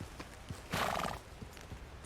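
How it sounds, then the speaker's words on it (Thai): A horse whinnies loudly in a single drawn-out call, with soft clip-clop hoofbeats tapping steadily before and after it as the horse is slowed. "เราจจะต้องชะลอม้านิดนึง"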